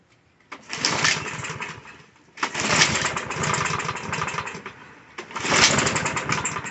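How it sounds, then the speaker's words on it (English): A Troy-Bilt TB110 push mower with a primed carburetor is pulled over three times, each pull giving a roughly two-second burst of the engine sputtering and trying to fire before falling quiet, loud and close. "I give it a pull over a few times."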